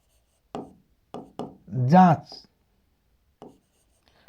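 Several short scratchy strokes of writing out a Class 10 maths solution, spaced a second or so apart, with a brief voice in the middle.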